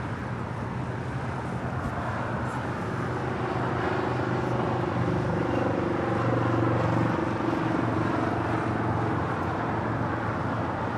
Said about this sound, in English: That is that Virgin Atlantic flight coming in from London on that Dreamliner.